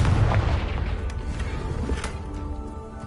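A Confringo spell explodes in the video game Hogwarts Legacy with a loud, deep boom at the start that rumbles and slowly fades over a few seconds.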